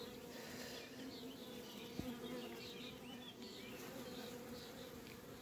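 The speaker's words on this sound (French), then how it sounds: "Quand ça va naître, ça va faire pas mal d'abeilles, pas mal de volume d'abeilles." Honeybees buzzing at the hive during queen marking, a faint, steady close hum of many bees with individual wingbeats flickering through, and a single soft knock partway, no voices.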